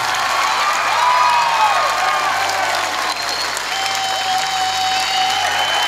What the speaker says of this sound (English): You gotta keep clapping, I think, people.